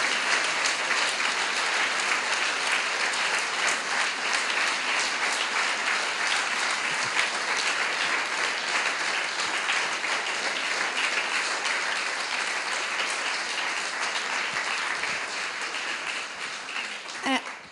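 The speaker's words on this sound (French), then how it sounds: "on doit également applaudir Monsieur Antoine Chéreau" A lecture audience applauds at length: dense, steady, loud clapping from a full room, with faint voices mixed in, tapering slightly near the end.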